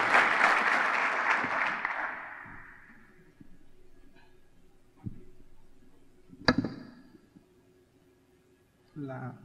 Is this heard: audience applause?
yes